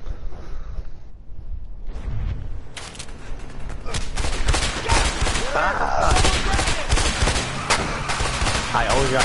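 Police gunfire in A Way Out: several bursts of rapid shots and fusillades fill most of the stretch, loud and dense, with some speech underneath.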